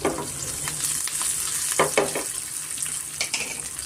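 Crushed garlic, asafoetida, curry leaves and chillies frying in a pan over medium flame, a steady sizzle broken by a few sharp stirring scrapes, moderately loud and close, no talk.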